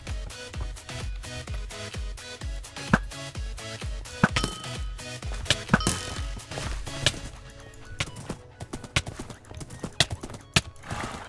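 Horse hooves clip-clop in Minecraft, a steady rhythmic run of hard, clicky blocky steps with a few louder knocks, continuing for several seconds.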